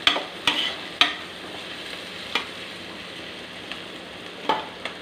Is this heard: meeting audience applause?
no